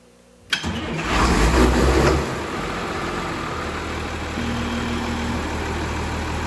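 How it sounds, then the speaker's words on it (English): A Case 7140 tractor engine cranks and fires with a sharp catch. It then settles into a loud, steady diesel idle and stays close and continuous. "It was the 7140 Case tractor."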